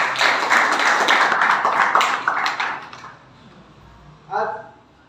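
A school farewell audience claps for the students in a dense burst that fades after a few seconds into quiet room tone, followed by a short voice.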